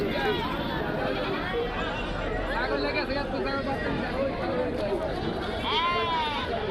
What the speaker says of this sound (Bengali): দুইজন আপাও নিয়ে আসছে দুইটা ছাগল